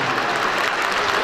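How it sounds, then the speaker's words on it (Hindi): A short, loud burst of audience clapping at a convention center in Islamabad, dense and continuous with no pause. "भरपूर तालियां होनी चाहिए मैम के लिए"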